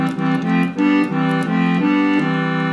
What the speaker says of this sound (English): you hear we still have accordion.